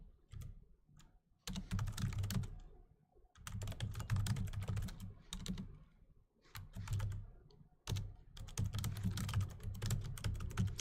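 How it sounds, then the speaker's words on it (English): Bursts of rapid typing on a computer keyboard during a night gaming session, close and clattering in several separate runs with short quiet pauses between them, and no talking. "Sorry, I'm just typing."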